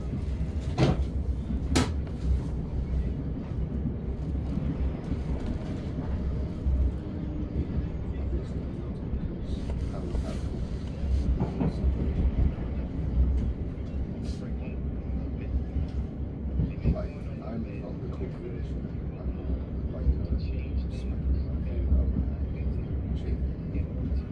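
Southern passenger train running between London Bridge and Caterham, a constant loud interior rumble and hum of the moving carriage with scattered clicks and knocks across the ride, muffled voices faintly under it.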